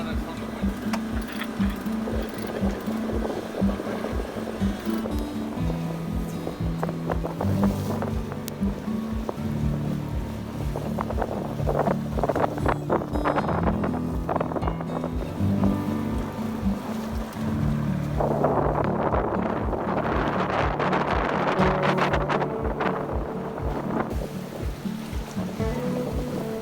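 Sailboat cruising under a single-reefed main in wind on a winter trip in British Columbia, with a steady wash of water and wind rushing throughout and people talking over it.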